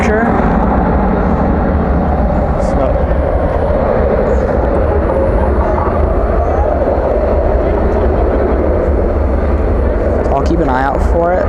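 A jet departs DFW airport at night, its broad engine roar sustained and distant under steady background noise, with a voice talking over it.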